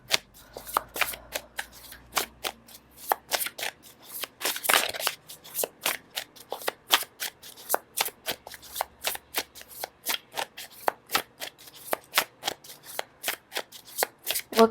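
Tarot cards are shuffled continuously for a reading, with crisp, rapid riffles and taps repeating in a fairly steady rhythm. The sound is close and clear, with no talk.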